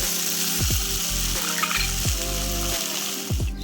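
Soaked sago frying in hot ghee, a continuous loud sizzle broken by repeated scraping strokes of a spoon stirring the pan, with no speech.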